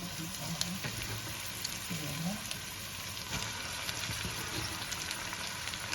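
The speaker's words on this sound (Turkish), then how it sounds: "şimdi ıspanağını ekliyorum" Spinach hits a pan of frying onions, giving a steady, moderate sizzle throughout with faint intermittent stirring sounds and a voice talking softly in the background.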